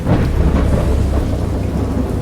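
Loud rumbling thunder from a storm outside rolls on continuously under the patter of steady rain, with no voices.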